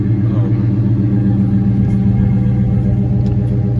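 A Chrysler 300 sedan on 24-inch Rucci wheels with its muffler deleted idles after a cold start, a loud, deep, steady exhaust rumble close by with no talk over it.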